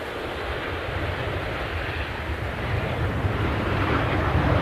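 A Dreamliner jet arriving at Manchester Airport gives a steady broadband roar, loud and close, growing slightly toward the end, with some wind noise.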